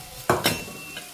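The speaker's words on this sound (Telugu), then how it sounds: "సో ఇప్పుడు వార్చుకున్న కూర ముక్కలన్నీ కూడా వేసేస్తున్నా." Boiled cluster-bean pieces tip into a cooking pan, making two quick clattering thuds with a short sizzle close up, then a low background hum.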